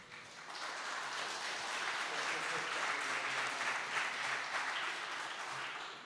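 An audience at a weather enthusiasts' association meetup applauds the jury for several seconds, a dense sustained clapping that stays even throughout, with faint talk underneath.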